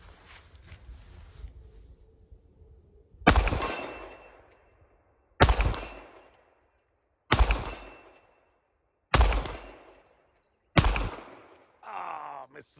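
Five loud, sharp reports from a 1911 pistol in .45 ACP and 10mm, each with a trailing echo, are spaced a couple of seconds apart as the shooter fires at an 80-yard target outdoors. Faint noise comes before the first shot.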